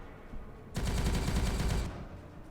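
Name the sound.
gunfire in video game Warhammer 40k Regicide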